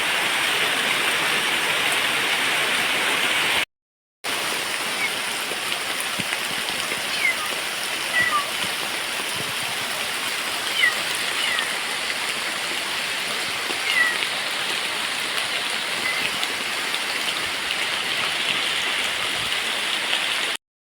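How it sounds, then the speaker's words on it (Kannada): Heavy monsoon rain pours down outdoors in a steady, dense hiss with a rushing, stream-like roar, loud and unbroken apart from one brief cut. "ಎಷ್ಟು ಮಳೆ ಬರ್ತಾ ಉಂಟು"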